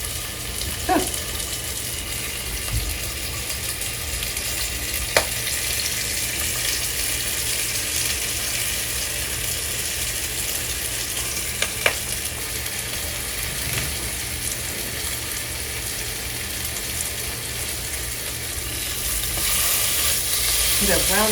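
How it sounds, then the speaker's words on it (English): Cambodian pork ribs sizzle as they brown in a pan, a constant dense crackle with faint clicks and small clatters, steady and close for the whole stretch, swelling slightly near the end. "Okay, now then, let's gently brown these ribs."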